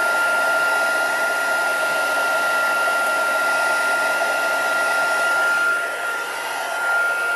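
A crafting heat tool blows hot air over inked cardstock, a loud, close, steady whirring blower tone with a high whine that holds throughout and dips briefly near the end.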